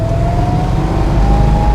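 A 1967 Plymouth GTX with a big block Hemi V8 runs loud and steady, rising slightly as it revs, with a deep rumble and a sustained whine throughout.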